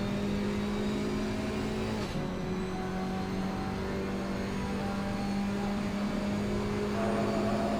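GT4 race car at Kyalami circuit, a steady engine drone heard close and continuous, with a shift in pitch around the middle suggesting braking and a gear change, no voices.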